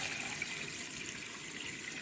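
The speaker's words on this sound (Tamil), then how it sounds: "நல்ல தண்ணி ஊற்றி நம்ம ஊற வச்சுக்கலாம்" Water pours steadily over washed foxtail millet in a vessel to soak it for idli batter, a continuous soft gushing rush with no talk.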